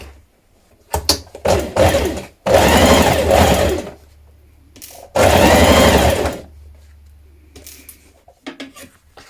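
A sewing machine stitches a 1 cm seam around a shirt sleeve slit, whirring in two long, loud bursts with short gaps and lighter clicks and handling noises between runs.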